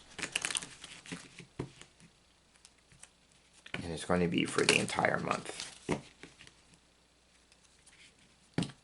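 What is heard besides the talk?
shuffling a deck of cards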